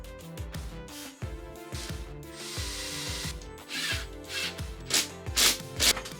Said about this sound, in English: We're going to screw in that first, and after that, we're going to screw in the rest of them